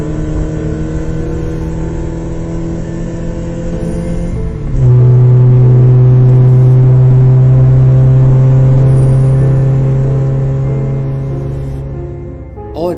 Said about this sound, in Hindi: नील भी अपना फटफटिया स्कूटर लेकर डेथ पार्क के बाहर बिट्टू सिट्टू का इंतजार कर रहा है।